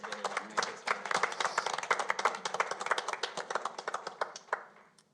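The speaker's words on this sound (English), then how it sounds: "We'll give them a round of applause." A small group at a school board meeting claps for several seconds, quick scattered handclaps that build briefly and then taper off.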